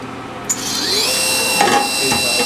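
The spindle of a Hanwha ML 12 CNC Swiss lathe spins up toward 8,000 rpm about six inches away, a steady mechanical hum with a high whine that rises in pitch and then holds steady.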